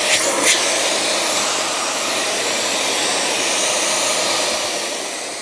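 A Dyson Ball Animal 3 upright vacuum cleaner runs with a loud, steady, high-pitched motor whine and airflow roar, close and continuous, easing slightly at the end.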